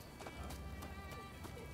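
Summoned horse galloping in the video game Rise of the Ronin, a quick rhythmic run of hoof clops over a dense, noisy game background.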